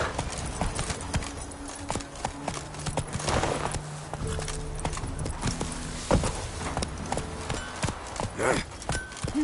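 Roach, Geralt's horse in The Witcher 3, gallops with rapid, rhythmic hoofbeats clip-clopping up close, accompanied by snorts and a short whinny near the end.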